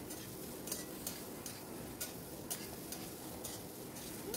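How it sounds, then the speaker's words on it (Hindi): Finely chopped potato and onion fry quietly in a pan, with a soft continuous sizzle and regular light taps of stirring. "इसे भी डाल करके थोड़े देर तक भून लेना है हमें"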